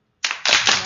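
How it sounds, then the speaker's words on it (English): An audience breaks into applause for Ashley Coffey on a talk show, a brief burst of many hands clapping that starts abruptly after silence and holds steady, close and clear with no talk. "can we get like another big round of applause for Ashley?"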